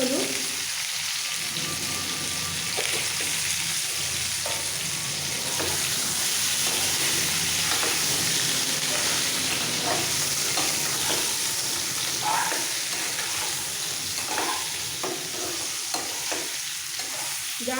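Raw mango pieces stirred in a hot pan with salt and turmeric make a continuous sizzle under repeated spoon scrapes and stirring, steady and close.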